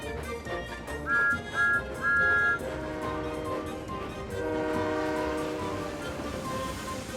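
A cartoon steam locomotive, Thomas the Tank Engine, speeds up: three short whistle toots sound over chugging and music, followed by a brighter whistle-like tone as the pace builds.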